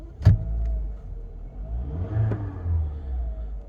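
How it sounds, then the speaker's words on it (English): A 2005 Seat Ibiza 1.4 Sport engine idles, then blips up in a short rev that rises and falls away, with a sharp click near the start. "Let me just give it a quick rev for you."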